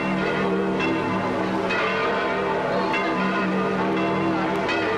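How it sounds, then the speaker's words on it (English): Church bells of the Vatican ring steadily in a rich, sustained peal, loud and resonant, with overlapping tones and no talking. "The sound of bells from the Vatican announces the appearance of His Holiness Pope Pius XII."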